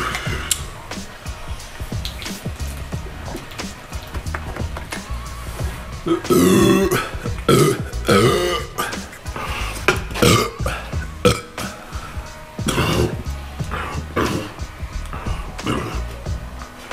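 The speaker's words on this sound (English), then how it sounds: "I got a burp party." Burps after chugging beer during a drinking challenge, a long series of loud, gurgling belches of varying length and strength, close up, with scattered voices and laughter between them.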